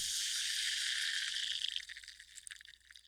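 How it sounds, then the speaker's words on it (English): A fizzing sound sample, a dense high hiss that holds steady, then breaks into crackling, uneven bursts as it fades, quiet and heard alone. "And then I have the fizz."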